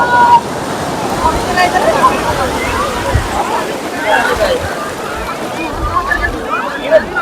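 Full high-tide sea water sloshes and washes around the Nishkalank Mahadev temple, a steady close churning with small splashes, under nearby voices.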